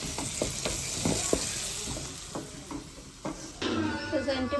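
A spoon stirs and scrapes through ginger garlic paste frying in a pan, sizzling steadily close up with repeated clinks and scrapes against the metal, plus a brief murmur of speech.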